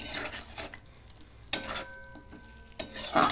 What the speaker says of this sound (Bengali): ধনে গুঁড়ো দিয়ে ভালো করে এটাকে মিশিয়ে নেব